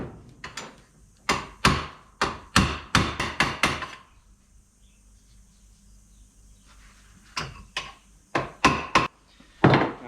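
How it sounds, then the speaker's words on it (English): A hammer strikes a custom metal battery tray being fabricated for a 1951 Chevrolet, with two bursts of sharp, close blows in quick irregular runs separated by a few quiet seconds. "I'm just going to hammer it a little bit"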